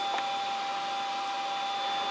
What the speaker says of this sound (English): What I'm gonna do now is I'm gonna start my vacuum pump.